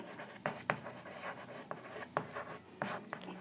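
Chalk or marker strokes on a board during a physics lecture come in short, separate bursts with pauses between them. The scratches are close but quiet, and no one speaks over them.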